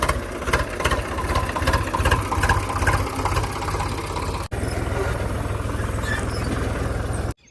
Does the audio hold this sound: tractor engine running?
yes